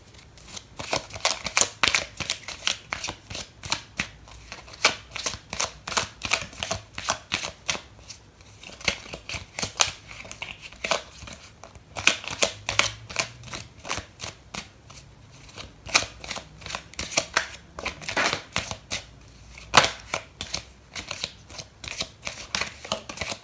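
Tarot cards are shuffled by hand in repeated bursts of quick, crisp riffling and flicking, separated by short pauses, close and clear with no talk.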